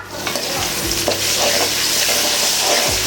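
Ginger paste sizzling in hot oil with popped mustard seeds, onion and curry leaves for a village-style mutton curry, a steady close crackle with a few scraping stirs, no talking.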